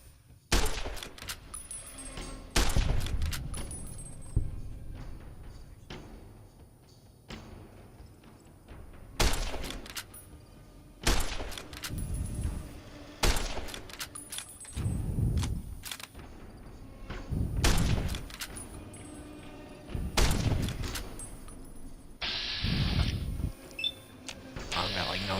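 Gunfire in Fallout New Vegas on a hardcore start, with repeated loud sharp shots and short bursts spread irregularly over about 25 seconds, some clustered together, with quieter gaps between them.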